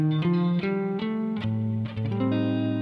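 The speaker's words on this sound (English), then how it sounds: "if I play the Locrian scale" A Locrian scale played on a keyboard instrument, with a quick run of distinct stepwise notes, legato and clear, heard alone.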